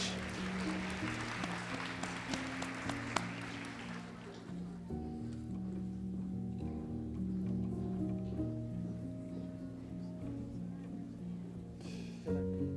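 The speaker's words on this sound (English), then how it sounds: "one more round of applause as they prepare to exit the stage." Clapping from an audience at a nursing school white coat ceremony as students leave the stage, moderate applause over sustained music that thins out after a few seconds, leaving the music playing on.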